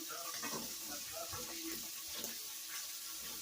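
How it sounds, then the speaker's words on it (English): Tap water runs steadily into a kitchen sink for hand washing, a continuous hiss and splash close by with faint clatter behind, no talking over it. "Let me wash my hands and I'll be right back."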